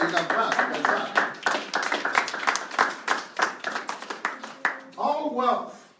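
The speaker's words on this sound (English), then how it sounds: "you can clap." An audience at a sermon claps in sharp, separate hand strikes that come in a loose, uneven rhythm. A voice talks over the clapping near the end.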